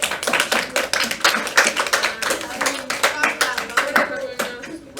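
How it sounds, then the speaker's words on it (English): A sixth-grade class claps in a round of applause, a quick, uneven patter of many hands lasting several seconds, fairly close, with voices mixed in. "Let's give you a round of applause"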